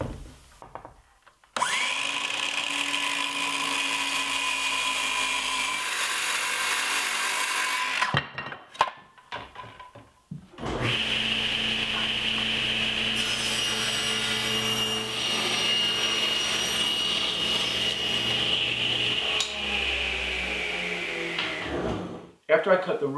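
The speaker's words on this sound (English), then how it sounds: "I'll make this cut with a circular saw." A circular saw cuts a wooden board clamped to a work table while building a top bar beehive, with two long, loud whining cuts separated by a brief pause and a clatter.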